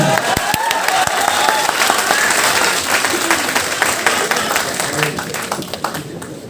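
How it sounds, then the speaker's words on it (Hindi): A crowd at a campus open mic event applauds loudly, dense sustained clapping with a few sharp close claps early on and faint voices underneath, tapering slightly at the end. "आप तो तालियां जोरदार तालियां"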